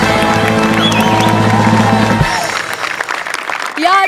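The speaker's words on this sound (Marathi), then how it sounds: "त्यांच्यासाठी सुद्धा एकदा जोरदार टाळ्या" Audience applause and cheering at a Marathi comedy show, dense and loud with music over the first half, then thinning into lighter scattered clapping.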